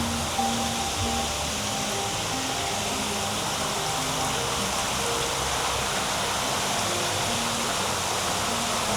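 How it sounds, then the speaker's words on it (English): Steady, continuous rush of falling water from a waterfall in the Dusit Central Park rooftop garden in Bangkok, an even wash of noise with a faint low hum beneath it and no talking. "Look, waterfall."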